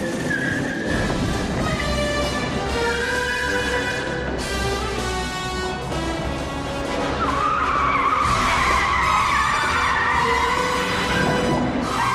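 A remote-controlled BMW car in a film chase skids loudly with tire squeal and roaring engine over a busy music-and-effects mix, steady and close throughout.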